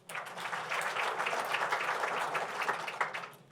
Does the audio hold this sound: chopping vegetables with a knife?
no